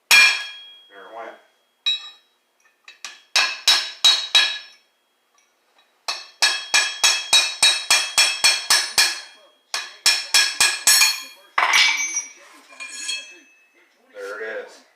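Chisel hammered against an axle bearing on a 1955 Chevy gasser rear axle: bursts of sharp metallic strikes in rapid rhythmic runs, loud and close, separated by short pauses.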